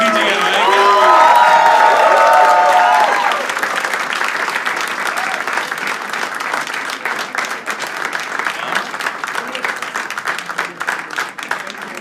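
A live Hindi poetry gathering breaks into loud, close audience applause with cheers and whoops, as a voice rises over the clapping at first before the clapping carries on steadily on its own.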